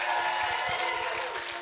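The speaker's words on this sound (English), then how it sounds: "a round of applause for Mrs. Didi Deathly!" An audience at a horror-themed stage show applauds a performer, a continuous wash of crowd clapping heard at a moderate distance and fading slightly toward the end.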